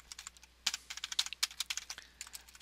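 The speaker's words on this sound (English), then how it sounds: "I'll actually type in" Quick keystrokes on a computer keyboard as a web address is typed into a browser, a soft, close, irregular patter of clicks that is fairly quiet, with no speech.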